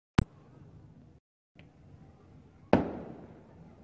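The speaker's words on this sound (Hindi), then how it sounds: "ये देखें आप आतिशबाजी भी लोग कर रहे हैं।" Fireworks go off outdoors at a gathering, two sharp loud bangs about two and a half seconds apart with quieter background rumble between them.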